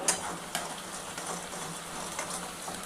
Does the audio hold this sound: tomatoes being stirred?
yes